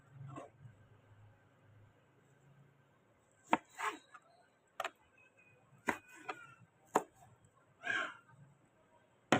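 Knife chopping a pig's head (maskara ng baboy) on a board for dinner: sharp, separate close strikes spaced about a second apart, with quiet gaps between them and no talk.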